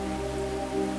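Steady rain falls over a rice field in the countryside, a soft continuous hiss with a faint underlying hum.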